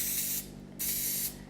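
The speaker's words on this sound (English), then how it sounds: "And then just gently spray across the lollies." Two short hissing bursts from a spray can misting over clear lollies, each lasting under half a second, separated by a brief pause, close and fairly soft.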